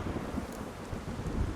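Rumbling thunderstorm with steady rain in The Witcher 3, a dense, continuous low roar with soft rolling swells and no clear distinct crack, moderately loud throughout.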